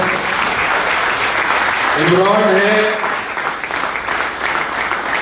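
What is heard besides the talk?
audience applause at seminar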